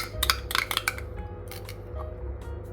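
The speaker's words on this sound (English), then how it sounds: "Next I'm going to crack in 2 eggs." Two eggs are cracked into a bowl of snickerdoodle dough, heard as a cluster of sharp taps and clinks on the bowl, then a few scattered clicks.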